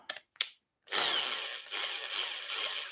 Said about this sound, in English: Regular drill.